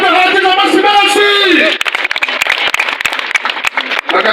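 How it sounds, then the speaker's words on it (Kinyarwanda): Renewed clapping from a rally crowd at Kibeho for the Green Party presidential candidate. It breaks out after a spoken line and keeps going as a steady, mid-distance patter of many hands, with some voices mixed in. "Ayo mashyi ntabwo ahagije, amashyi menshi."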